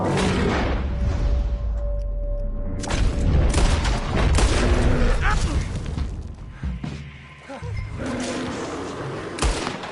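Deep booming gunshots and heavy blasts from Red Dead Redemption 2 gameplay ring out in several loud bursts, mixed with shouting voices and dense game action.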